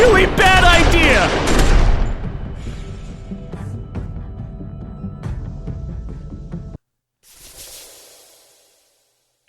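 A loud burst of gunshots in The Walking Dead game, fired at a character named Rebecca, comes right after raised voices, then a ringing decay trails off into silence.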